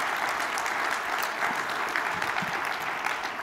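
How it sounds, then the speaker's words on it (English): A conference audience at the Jobs Australia National Conference claps steadily for several seconds, a full, even round of applause from a large room with no voices over it. "I think we need another round of applause for them."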